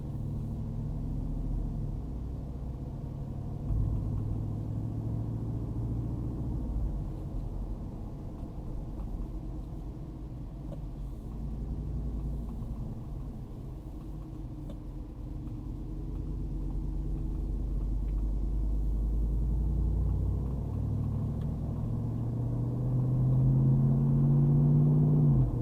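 A 2022 Jeep Wrangler Unlimited Rubicon 392 with its Hemi V8 rumbles deeply and steadily on the road, heard from inside the cabin, with the low drone swelling toward the end as it accelerates.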